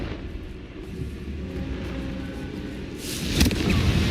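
A Confringo fire blast spell cast in the Hogwarts Legacy video game, a sudden broadband burst near the end that rises into a loud crackling rush over a constant low rumble of game ambience.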